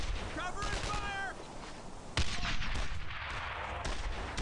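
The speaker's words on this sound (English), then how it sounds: "And finally, a grenade that works out for me." Grenade blast and gunfire in the World War II shooter Brothers in Arms: Earned in Blood, with dense rattling shots, a sharp loud burst midway and steady fire afterward, mixed under shouted voices.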